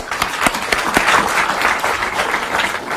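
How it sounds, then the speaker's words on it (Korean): A political gathering claps for lawmakers, with a full crowd applauding and a few sharp, close hand claps standing out through a steady, fairly loud roar. "의원님 모두에게 박수 수를 부탁드리겠습니다"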